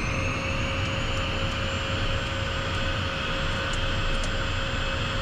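Steady, loud jet engine roar and whine heard from inside a Premier private jet on the runway before takeoff, a constant dense drone with a thin high tone running throughout and no talk.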